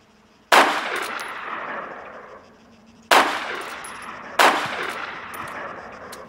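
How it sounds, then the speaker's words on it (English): An AS-50 sniper rifle fires three heavy single shots in the video game Arma 3. Each loud crack is followed by a long booming echo that trails off before the next round. "now let's go to the AS-50. Caliber sniper rifle."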